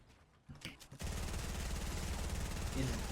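Rapid automatic gunfire in a battle royale video game, a loud sustained burst of shots after a few scattered pops, heard under a voice talking.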